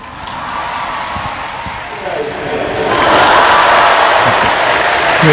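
A crowd of Catholic faithful in the Xuân Lộc diocese of Vietnam applauds and cheers in welcome, a dense wash of clapping that swells louder midway and keeps going, with a voice speaking over it.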